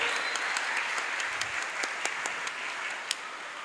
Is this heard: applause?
yes